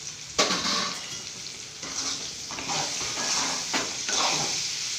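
Ivy gourd frying in oil in a pan, with a steady bright sizzle and occasional scraping stirs of a utensil against the pan, close and continuous.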